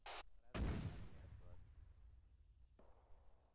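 One loud artillery gun shot fires in a military video game, a sudden deep blast early on that decays over about a second, followed by quieter game ambience and a short trailing noise burst.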